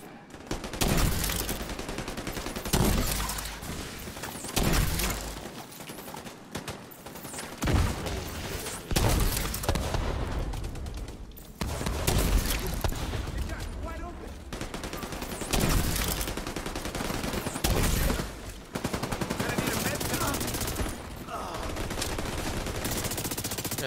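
Dense, continuous gunfire in a co-op firefight in the video game Division 2, with rapid automatic bursts and heavy shots rising and falling in loud waves, broken by a few short pauses over its whole length.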